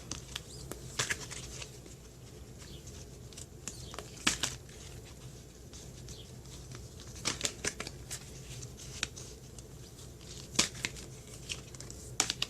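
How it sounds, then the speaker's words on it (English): Tarot deck given a quick, quiet shuffle, with soft papery rustling and scattered sharp card snaps and flicks over a low hum. "I'm just going to give it a quick shuffle."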